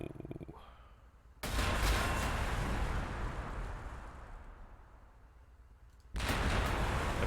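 Gunfire in the WWII wargame Close Combat: The Bloody First, heard as dense, noisy bursts of shooting and rumbling blasts in two loud stretches with a quieter lull between.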